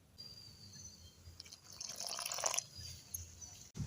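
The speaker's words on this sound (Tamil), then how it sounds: "அடுத்தது தண்ணி ஊற்றி கரைச்சிக்கலாம்." Water poured into a bowl of egg bonda batter masala and stirred, a soft trickle and liquid swishing that builds in the middle then fades, quiet and close.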